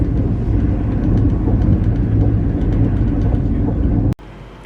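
Steady, loud rumbling interior of a moving train on the roughly 52-minute ride to Vang Vieng in Laos, a continuous low drone with rattling that cuts off abruptly near the end.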